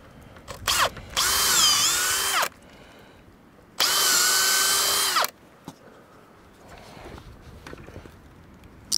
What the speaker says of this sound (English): I gotta switch drill bits for this one. This takes a smaller